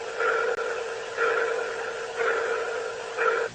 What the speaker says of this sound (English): It was kind of like a pulsing noise, almost like a sonar ping.